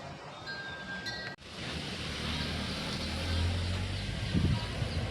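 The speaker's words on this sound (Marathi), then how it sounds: "वारा सुटले मंडळीनं इथे" Wind blows on the Konkan coast under gathering rain clouds, a broad, steady roar with a low rumble that swells a little toward the end after a brief click.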